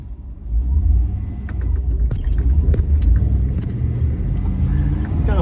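An LS-swapped car with a 6-speed gearbox pulls away in first gear, its engine rumble rising and holding loud and close, with light interior rattles over the drone.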